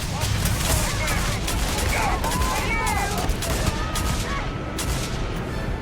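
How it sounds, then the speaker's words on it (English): Rapid gunfire bursts crackle through a firefight in the video game Starfield, dense and loud, with a voice talking and reacting over the shooting. "Opening fire."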